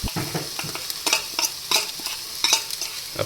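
Garlic and onion stirred in hot ghee in a pan, giving a close, bright sizzle broken by repeated scraping stirs about every half second, with no talk.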